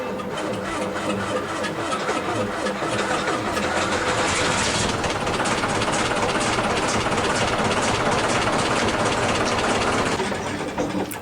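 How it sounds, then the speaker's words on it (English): A tractor engine in Farming Simulator 22 cranks, catches and settles into a steady, loud, chattering idle that runs for several seconds before cutting out near the end, with no talk over it. "I'll be quiet so you can actually hear the engine."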